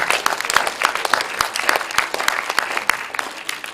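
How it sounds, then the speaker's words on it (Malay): An audience at a Malaysian alumni talk on engineering life applauds for its writers. The clapping is loud, dense and sustained, with scattered crowd noise and a little voice underneath. "Jadi sama-sama kita berikan tepukan gemuruh kepada para penulis kita pada pagi."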